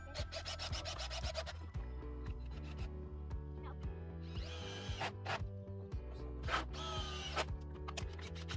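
A power drill drives screws into a wooden chicken coop frame in short bursts of motor whine with ratcheting clutch chatter, several separate runs spaced across the clip, fairly close and alone.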